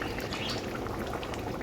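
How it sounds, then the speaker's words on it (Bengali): Mutton curry with potatoes bubbling in a pot, a close, steady simmering burble of thick liquid with soft popping, heard alone. "খুব ভালো করে তরকারিটা ফুটেও গেছে।"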